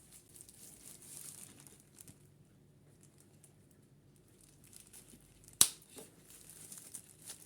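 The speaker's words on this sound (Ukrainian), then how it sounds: "Манікюрними ножицями ріжу." Manicure scissors snip away at the base of a multiflora orchid during repotting, soft crinkling and rustling followed by one sharp close snip, quiet and alone.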